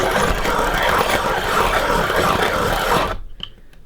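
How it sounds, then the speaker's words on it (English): A pastel pencil being sharpened in a handheld sharpener, a continuous close grinding rasp lasting about three seconds before stopping abruptly. "All I then do is put one of these inside, and then I just sharpen that."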